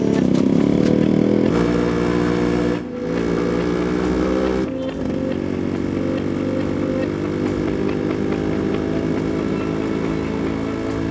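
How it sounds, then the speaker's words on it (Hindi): A motorcycle engine runs steadily close by, a loud continuous mid-low drone with a couple of brief dips, holding level throughout without talking. "मेरी बाइक है।"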